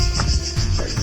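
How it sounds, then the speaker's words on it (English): Loud, shrill buzzing of cicadas on Brač island, Croatia, pulsing steadily in a high drone, close and dominant, with rumbling background noise underneath. "Listen to those cicadas, man, so"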